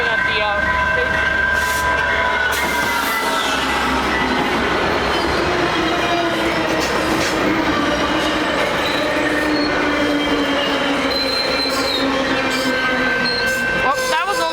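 A West Coast Express commuter train rolls through Pitt Meadows station, a loud, continuous rumble of wheels on rail with sustained high-pitched wheel squeal and clattering, people talking nearby.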